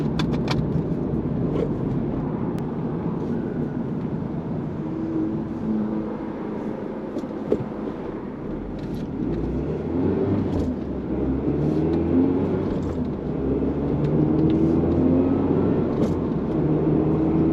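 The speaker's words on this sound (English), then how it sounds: "It's a petrol car, but the engine sounds very diesel-y." A Mazda MX-5 ND2 petrol engine runs with a low, gruff, diesel-like drone heard from inside the cabin, a steady rumble that swells slightly toward the end, with no talking.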